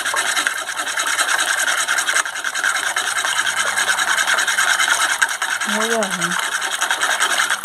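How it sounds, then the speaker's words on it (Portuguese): A small whisk beats fine cassava flour into fish-head broth for pirão, a steady scraping rasp against the pot. A voice speaks briefly near the end. "Farinha de mandioca, né? Ficando assim um pouquinho, batendo assim, ó. Com o fuezinho, porque não fica."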